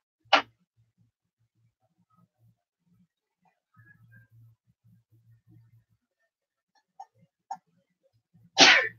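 Two sharp, loud human sneezes come close up, one at the start and one at the end. Between them there is near silence with faint low murmurs and a couple of small clicks.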